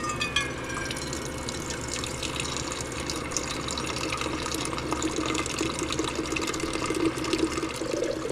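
Water running steadily from a Berkey gravity water filter spigot into a cooking pot, a continuous close trickle and splash with no pauses.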